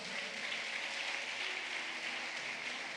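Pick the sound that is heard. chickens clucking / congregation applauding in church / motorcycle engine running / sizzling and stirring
congregation applauding in church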